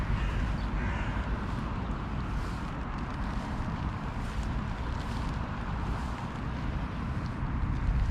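Crows caw in an open field, with repeated harsh calls partly buried under a steady, dense wash of wind and outdoor noise.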